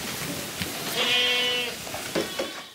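A goat on a farm gives a single clear, drawn-out bleat in the middle, moderately close, against faint background noise.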